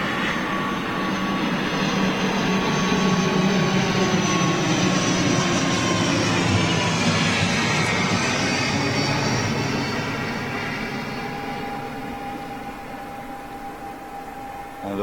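ATR turboprop airliner at Gatwick Airport, a steady broad engine roar with a faint whine that holds for most of the stretch and then slowly eases as the aircraft moves away.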